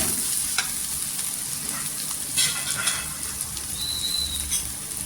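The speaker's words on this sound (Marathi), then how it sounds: "सुके मसाले तेलावर परतून घ्यायचे छान असं।" Dry ground spices (chilli powder, homemade masala, garam masala, coriander and turmeric powder) fry in oil with a steady, close sizzle, punctuated by a few light stirring clicks; no one speaks.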